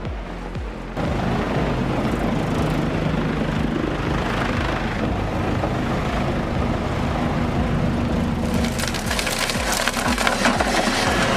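A wood chipper powered by a 1,050-horsepower Cat C27 V12 engine chews through dry spruce, a loud continuous roar with crunching and splintering wood, rising into harsher cracking near the end, no voices.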